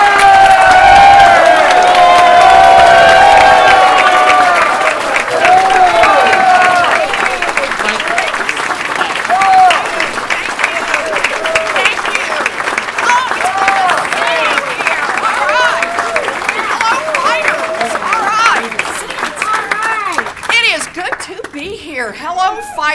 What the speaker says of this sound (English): let's give Senator Warren the biggest round of applause we have